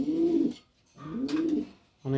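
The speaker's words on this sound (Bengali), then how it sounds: "একটা ব্রিডার নর কবুতর" A large male breeder pigeon coos in a loft: two drawn-out, throaty rolling coos close to the microphone, separated by a short pause, and a third beginning just as it ends.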